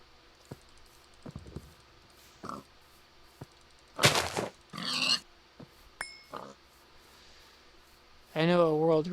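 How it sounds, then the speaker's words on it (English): Pigs oinking in a video game, short scattered grunts and squeals interspersed with keyboard clicks and a few louder bursts, with a person talking at times. "grab a name tag and name one of these piggies"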